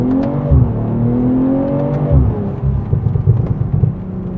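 BMW M340i, 285 kW, 500 Nm, pulling hard under acceleration, its engine note rising steadily, briefly dipping at a gear change, then climbing again, loud and close from inside the cabin with no talking.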